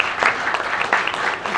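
A brief burst of audience clapping at an industry forum, a short cluster of claps heard close and fairly loud.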